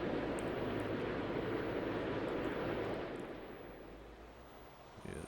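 A heavy jet airliner rolls down the runway on takeoff in an airport tower simulator at Melbourne, a loud steady engine roar that holds for three seconds and then fades as it moves away.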